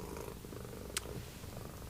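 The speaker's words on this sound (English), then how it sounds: "Here's the cat to confirm." Cat purring close by in a quiet room, a soft continuous low rumbling purr with a brief click partway through, heard on its own.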